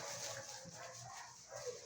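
Puppies whimper and yip faintly in the early morning, with soft, scattered whines and small barks at a distance over a low background.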